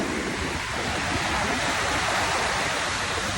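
Sea waves surge and wash in a loud, continuous roar, close by, with no voices over them.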